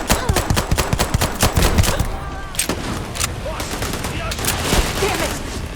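Rapid bursts of gunfire in the space RPG Starfield, dense volleys through the first two seconds and then scattered sharp shots, with background battle noise throughout.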